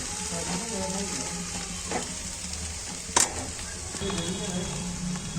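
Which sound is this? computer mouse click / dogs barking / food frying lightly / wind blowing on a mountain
food frying lightly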